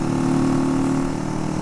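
A repaired Shikra motorcycle engine drones steadily on a night ride from Multan to Lahore, a loud continuous mid-pitched hum with no talk over it.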